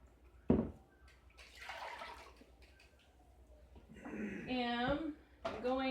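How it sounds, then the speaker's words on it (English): Lye being stirred into water in a container for shea butter bar soap, with short bursts of sloshing and swishing liquid close by, and a person speaking briefly between the stirring sounds. "am going to stir my lye into my water"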